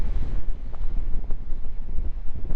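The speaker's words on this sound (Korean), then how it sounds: "이렇게 바람이 불고 파도 치는 거 보기에는 멋있어 보이고 그러지만은 한편으로는 겁도 나네요" Strong wind buffets the microphone at Deoksan beach while heavy waves crash and surge below, forming a loud, constant roar with gusty rises and no talking.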